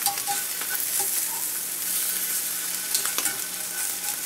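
Pieces of SPAM browning in a carbon steel pan give a steady, close sizzle with light scraping and stirring clicks throughout, and no talk.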